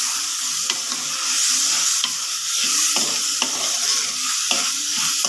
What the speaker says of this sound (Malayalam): കറിവേപ്പിലയും ചേർത്ത് കൊടുക്കാം ചേർത്ത് കൊടുത്തിട്ടുണ്ട് നന്നായി ഒന്ന് ഇളക്കി കൊടുക്കാം